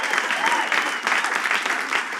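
A stand-up comedy audience breaks into brief, lively applause after a joke, dense clapping in a couple of swelling waves, close and loud.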